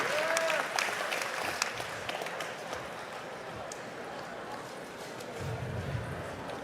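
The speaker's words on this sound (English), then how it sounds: "And a round of applause to his opponent, Josh Neer." Crowd applause for grappler Josh Neer at a live grappling event, a steady wash of clapping at moderate volume that starts strong and gradually thins, with some background voices mixed in.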